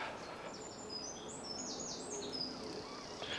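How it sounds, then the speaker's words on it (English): Birds singing near the North London Line railway in London, with bright chirps and whistled phrases repeating through the clip over a steady outdoor hum. "it's kind of drowned out by just the sounds of birds"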